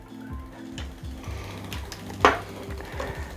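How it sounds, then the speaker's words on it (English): A ratchet clicks in quick repetitive runs while tightening fender bolts on a Retrospec Beaumont REV bicycle, close up with a brief sharper metallic knock partway through. "we're going to gently tighten down these bolts"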